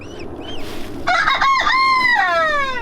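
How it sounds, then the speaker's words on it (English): A rooster crowing nearby, one loud, long cock-a-doodle-doo that stretches and falls away, preceded by a couple of softer clucks. "And there's our rooster who protects them, which is nice."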